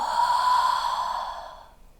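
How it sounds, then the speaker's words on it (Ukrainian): A long, loud exhale through the mouth during a guided relaxation breathing exercise, one steady breathy whoosh that fades out over about two seconds, close and alone. "і гучний видих ротом"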